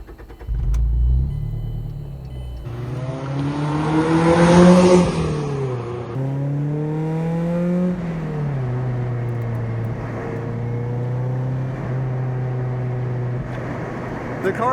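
A Mazda Miata NC driving on a race track: a loud in-car engine climbs through revs, shifts, and keeps droning steadily at speed, with a brief louder rumble at the start.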